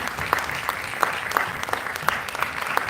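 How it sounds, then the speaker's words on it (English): Audience applause for the Bernie Grant Arts Centre team at a literary event, a steady dense wash of clapping from a crowd with a few sharper individual claps standing out, continuing without a break. "I'd like you please to give a massive round of applause to our incredible TLF, Bernie Wright Arts Centre team."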